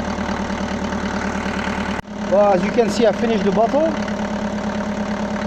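A Mercedes-Benz W124 engine idles steadily during water decarbonizing. Someone talks over the engine noise for most of the clip.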